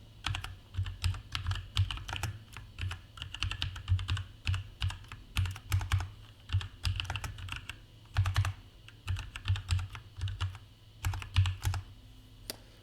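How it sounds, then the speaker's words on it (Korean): Rapid clacky keystrokes on a mechanical keyboard, typed in uneven bursts with short pauses, close and clear throughout. "제가 모처럼 마음먹고 기계식 키보드를 하나 장만을 했는데 아직 손에 익질 않아서 타이핑 오류가 되게 많네요"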